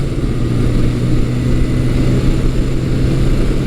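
Yamaha XS1100 classic motorcycle engine holding steady revs just above 4,000 RPM at about 60 mph while riding, a loud continuous drone with wind rumble and no speech.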